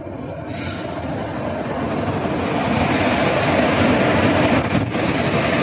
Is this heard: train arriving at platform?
yes